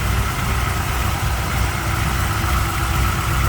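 A 1962 Chevrolet Biscayne two-door sedan with a 427, 594 horsepower engine and MSD electronic ignition idles in a deep, steady, loud rumble that holds throughout, with no voices.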